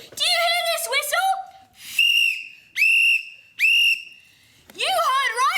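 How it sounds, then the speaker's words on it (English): A shrill whistle blown at sea from a lifeboat, sounding as three sharp, steady, loud blasts in a row with short gaps between them, with someone shouting before and after. "Do you hear this whistle?"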